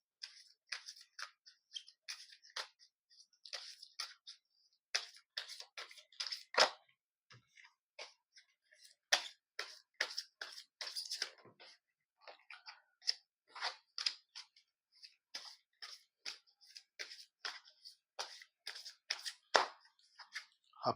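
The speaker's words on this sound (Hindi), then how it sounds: "मैं कार्ड शेफल कर रहा हूँ।" Tarot cards shuffled by hand, a long run of crisp, soft riffling flicks and snaps in irregular bursts with short pauses, close and fairly quiet with no talking.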